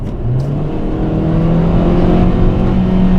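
A Kia K3 with a CVT transmission accelerates on a test drive, its engine drone rising smoothly and steadily from inside the cabin, loud and continuous with no voices.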